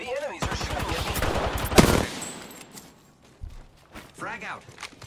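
Enemy gunfire in the video game Apex Legends, a rapid burst of automatic shots followed by a single sharp blast, with scattered game effects and a voice talking over the action.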